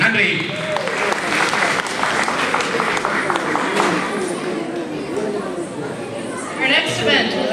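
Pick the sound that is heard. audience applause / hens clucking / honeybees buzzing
audience applause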